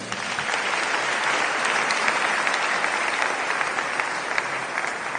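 A church congregation applauds steadily and loudly throughout, a dense, even wash of clapping with no break.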